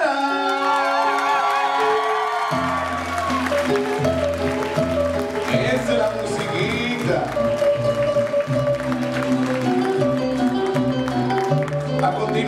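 A quinceañera party crowd in Long Island, New York, applauding and cheering loudly over thumping dance music, the noise continuous and dense throughout.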